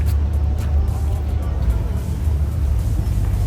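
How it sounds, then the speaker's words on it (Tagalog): Slow car traffic in Calgary heard from inside a vehicle, a steady low engine and road rumble with faint clicks and ticks, continuous and close. "Traffic. Dagan pa kay sakyanan no?"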